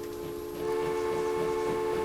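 A train in the video game Transport Fever runs with a sustained tonal hum and rumble that swells louder partway through, steady and close, with no talking.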